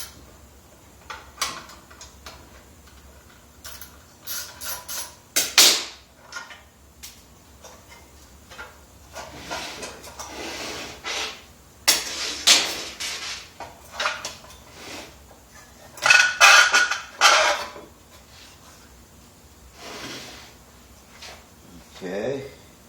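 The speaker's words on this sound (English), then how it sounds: "a little, little quarter drive socket." A quarter-inch drive socket ratchet works on a minibike, giving close, sharp metallic clicks and ratcheting bursts in uneven clusters with tool clatter between them.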